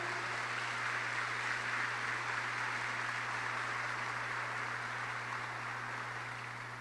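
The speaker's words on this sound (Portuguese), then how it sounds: "Vamos acolher a nossa irmã com uma salva de palmas." A church congregation claps in welcome for a sister: a dense, sustained wash of many hands applauding at moderate distance, steady throughout and easing slightly toward the end, with no talking.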